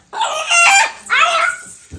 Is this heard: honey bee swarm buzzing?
no